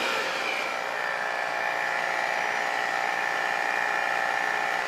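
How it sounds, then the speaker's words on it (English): An electric mixer runs on high, whisking eggs, sugar and olive oil in a big bowl, a steady high-pitched motor whine with a faint rattle of beaters, unbroken and fairly close. "And then we will whisk this on high until it's fluffy."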